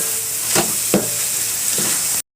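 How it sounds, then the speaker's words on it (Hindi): Masala kaleji (spiced liver) frying in a pan, giving a steady broadband sizzle broken by three sharp scrapes of stirring, close and fairly loud, with no voices. "अभी इसको 5 से 7 मिनट तक और भून लेंगे"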